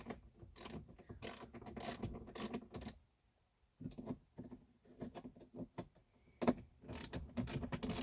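Small Torx T10 screws come out of a BMW E60 dashboard screen, with bursts of quick ratcheting screwdriver clicks close by, separated by brief pauses and no speech.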